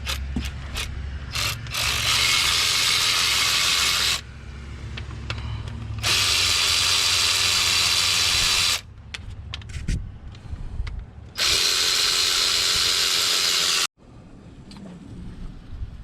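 Hercules cordless power tool loosening bolts on a 2007 Ford F550 6.0 diesel engine, several loud sustained whirring and ratcheting bursts separated by short gaps, close-up with some tool clatter in between.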